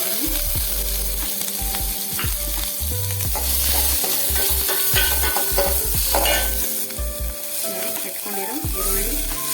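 Chopped onions sizzle loudly in hot oil with ginger garlic paste and curry leaves, while a spoon stirs and scrapes the pan at an irregular rhythm, close and continuous.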